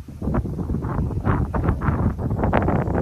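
Gusts of wind buffet the microphone in a steady low roar, swelling and fading in uneven bursts with no talking.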